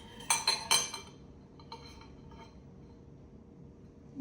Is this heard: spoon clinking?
yes